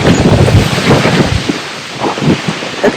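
Loud, blustery wind buffeting the microphone in heavy gusts on the coast at Point Lobos State Natural Reserve near Carmel, with a rumbling roar like surf in the background.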